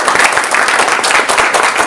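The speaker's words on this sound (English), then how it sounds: "Let's clap for it." Audience clapping at a talk on Indian perspectives in higher education: a loud, dense burst of many hands clapping together, continuous for the whole short stretch with no voices.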